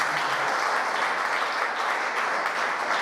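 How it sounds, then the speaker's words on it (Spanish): A church congregation breaks into strong, sustained applause, a dense wash of many hands clapping steadily for a few seconds. "Denle un fuerte aplauso."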